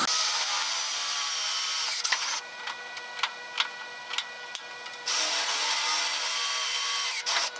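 A power drill whines at high speed in two long runs, drilling rivet holes in aluminum race cabinets, separated by a pause filled with clicks and small knocks.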